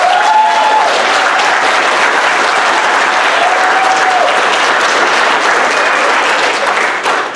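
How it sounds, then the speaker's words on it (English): Loud, sustained applause from a school audience at a middle school winter program, packed clapping holding steady for several seconds before easing slightly at the very end. "give them a round of applause"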